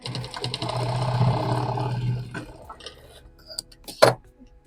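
A sewing machine hums steadily as it stitches fabric about an inch and a half in from the edge, then stops and gives way to scattered handling clicks and one sharp clack, all close by.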